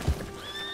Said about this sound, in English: Oh, there's this horse right.